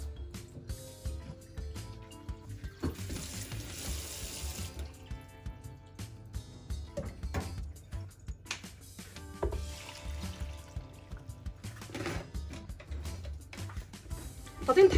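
Water poured into a Moulinex blender jar, a steady splashing rush running throughout with occasional light clatter from the jar.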